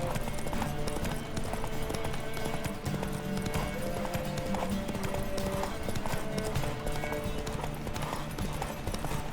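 Rapid, rhythmic hoofbeats of a galloping horse pound continuously under a busy soundscape with music, from a horse race in The Witcher 3: Wild Hunt.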